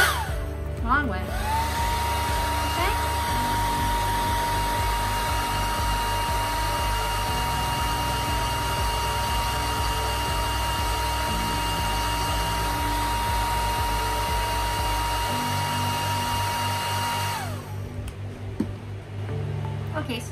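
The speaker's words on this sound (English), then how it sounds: "I'm going to dry the center off so we can work with it dried." A hair dryer blows a continuous, loud, even whir over an alcohol ink painting of a coneflower, running steadily for about seventeen seconds before switching off, with a few faint handling sounds after.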